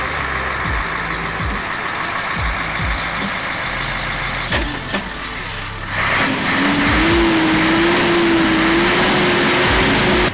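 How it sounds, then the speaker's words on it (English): A Mercedes-Benz Actros truck loaded with timber, stuck on a slippery muddy road, keeps its heavy engine loud and steady while the wheels spin. The engine rises into a higher, sustained whine partway through. "The Mercedes-Benz Actros, a powerhouse of a machine, is now stuck spinning its wheels on a slippery road,"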